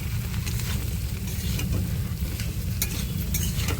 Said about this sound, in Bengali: এই দিয়ে দিয়েছি, দিয়ে ভালো করে নাড়াচাড়া দিয়ে দেবো